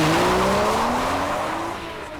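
A 2013 Porsche Boxster S with its 3.4-litre flat-six engine revs through a corner, a steady engine note rising in pitch with tire squeal underneath, loud and close, then easing slightly toward the end.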